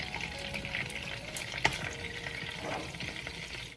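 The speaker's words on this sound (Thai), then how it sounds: "เปิดไฟแล้วก็ใส่เนยลงไปเลยค่ะ" Butter melting in a hot pan as a mushroom cream sauce gets started, a steady, soft sizzle with small crackles and one sharp clink midway, and no voices.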